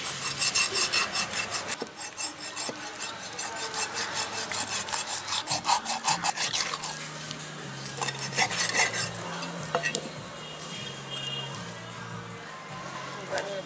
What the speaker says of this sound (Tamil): இப்போ சத பகுதியை மட்டும் நம்ம கட் பண்ணிக்கிட்டு வரலாம்